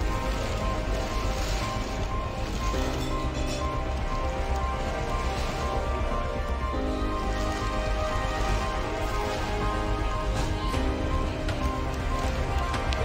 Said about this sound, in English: This is more rain than wind.